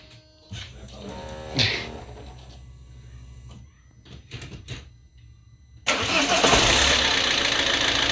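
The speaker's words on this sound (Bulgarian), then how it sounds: "сега остава да запалим и да проверим за течове. Пали!" An Alfa Romeo 159 1.9 JTDm diesel is started after an oil and filter change. Quiet clicks and fumbling come first, then the starter cranks briefly and the engine catches into a loud, steady diesel idle close by.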